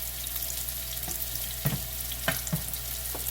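Shredded cabbage sizzling gently in a pan at home, a steady soft frying hiss broken by a few brief stirring clatters, close and moderately quiet with no talk.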